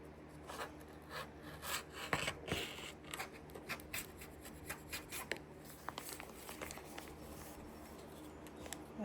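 Scissors cut along the bottom edge of quilt fabric, giving a run of close, dry snipping and rubbing strokes at a steady, quiet level with no talking.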